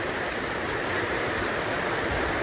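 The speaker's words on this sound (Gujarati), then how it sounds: "મિત્રો જોવા આજે તો ફૂલ વરસાદ આવી ગયો" Heavy rain pours steadily through a Gujarati family's evening, a dense unbroken hiss of drops close by that stays loud and even throughout, with no voices.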